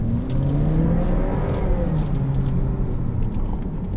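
A 2017 Buick Regal accelerates hard, its engine note rising in a steady, loud drone from inside the cabin, with pitch climbing through gears and no talk.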